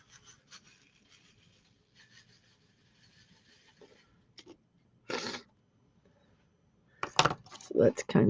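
Small plastic diamond painting drills slide and rattle in a tray in short, quiet bursts, with a few louder scrapes and clicks near the end.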